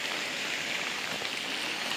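Steady rain of the first monsoon shower patters on trees and foliage, an even, continuous hiss with no voices.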